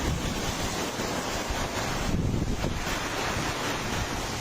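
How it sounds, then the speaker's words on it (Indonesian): Strong storm wind in Bogor, West Java, roars continuously, buffeting the microphone with gusty swells and a brief surge midway, loud and without speech. "Angin kencang dan hujan deras melanda kota Bogor, Jawa Barat, Senin sore."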